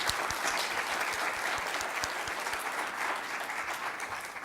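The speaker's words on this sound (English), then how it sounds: "We'll give you a little round of applause." Congregation at a Christmas church service gives a warm round of applause for first-time visitors, steady clapping from a crowd sustained throughout at moderate distance.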